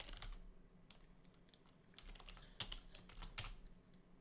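A computer keyboard being typed on while entering React JavaScript code, with a fairly quiet, irregular run of light key clicks that bunch into denser flurries near the end.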